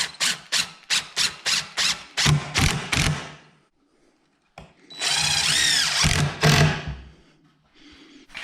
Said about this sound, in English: Let's attach these with wood glue and 3-inch screws right on the edge of that mark.